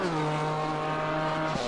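A GT4 race car in Assetto Corsa Competizione at Zolder roars past the line, a loud, steady high-revving engine whine with a slight pitch drop as it passes, no talk.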